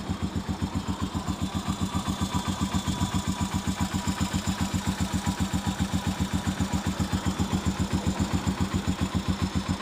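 A Keeway Blackster 250 motorcycle engine idles close by with a steady, even low thumping pulse that holds without change throughout, with no voices.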